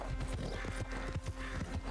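Horse hooves clip-clopping at a steady walking pace in Red Dead Redemption 2, close and fairly loud, an even rhythm of hollow thuds with no talking over it.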